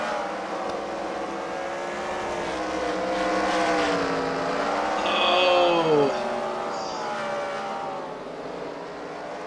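Race cars at a demolition derby fight night at The Freedom Factory, engines droning and revving steadily in a loud, continuous blend, swelling midway as one car surges, with a brief shout over the noise.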